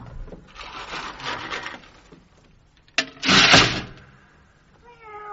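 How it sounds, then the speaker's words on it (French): A cat meows indoors in a short run of calls, the last and loudest ending in a rising tonal cry, mixed with rubbing and wooden knocking noises nearby. "Oh, le beau chat."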